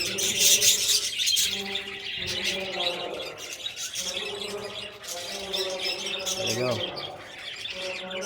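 Pet budgies in a colony chirp and squawk busily as one feeds its egg-laying partner, a dense, close chatter of overlapping tweets and calls.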